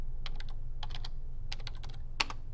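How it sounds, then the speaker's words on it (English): Rapid clusters of keyboard key clicks in short bursts, with a steady low hum underneath and one sharper tap near the end. "I'm not typing very well,"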